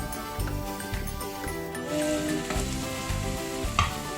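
Chicken sizzles and fries steadily in a pot with lemongrass, a loud, continuous crackle with stirring noises now and then and no talking.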